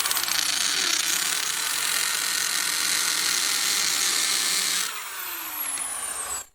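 A rotary hammer drill with a 3/8-inch bit runs at 2200 rpm, giving a steady high whine and buzz while boring, then pitching down as it eases off and stops.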